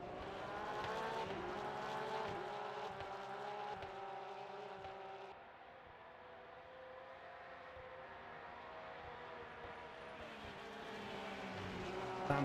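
A Porsche GT3 Cup race car at Fuji in a racing video game drones on in a steady high engine whine, briefly softening mid-way before rising again, with a faint tire scrub near the end.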